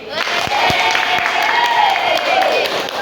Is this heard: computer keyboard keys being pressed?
no